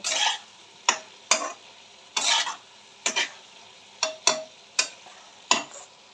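A spoon scrapes and stirs coriander powder into a frying fig curry in a pan, about nine sharp, uneven strokes close up, each with a brief sizzling hiss, over quiet gaps and no talking.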